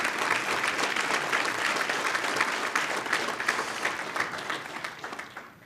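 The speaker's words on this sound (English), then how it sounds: "We encourage applauding." Audience at the Kiwanis Club of Indianapolis Abe Lincoln Awards ceremony gives a round of applause, steady clapping that thins and fades out at the end.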